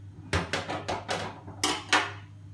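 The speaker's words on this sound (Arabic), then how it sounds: "دلوقتي بقى نبدا نقلب بالمضرب بتاعنا لحد ما يبقى معانا زي المهلبيه بالظبط" A metal whisk beats garlic toum sauce in a bowl, making a quick series of about seven clattering clinks in uneven rhythm with a short pause midway, close and fairly quiet.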